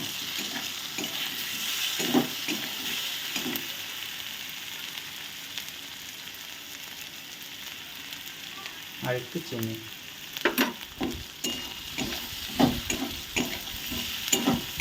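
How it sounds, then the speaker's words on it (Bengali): Coriander and chili powder sizzle steadily in hot oil in a pan for a cabbage and fish-head dish, with stirring scrapes that grow busier toward the end and a brief voice speaking. "মশলাটা একটু ভাজা হোক মশলাটা একটু ভাজা ভাজা হয়ে গেছে"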